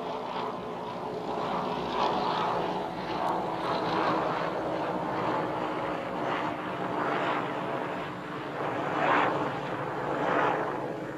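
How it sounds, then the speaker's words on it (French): A military helicopter flies overhead, its engine and rotor producing a continuous droning roar that swells and fades in slow waves, fairly distant and steady throughout. "Celle-là, c'est un hélicoptère d'armée."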